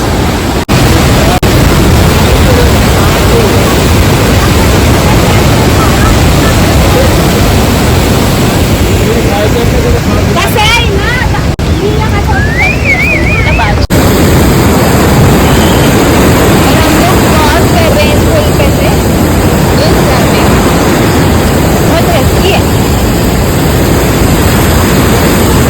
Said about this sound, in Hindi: और झरने की आवाज़ आपको वीडियो में सुनाई दे रही होगी,